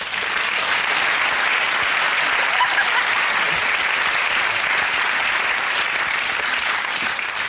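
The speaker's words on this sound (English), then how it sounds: "So please join me in a round of applause for our stars and a charity of your choice." A TV comedy quiz show studio audience gives sustained, even applause, a thick wash of clapping at constant loudness from start to finish with no talk over it.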